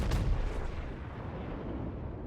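A heavy gun salvo from the battleship Iowa in World of Warships: one deep, booming blast at the start that rolls off into a long, fading low rumble, with no talk over it.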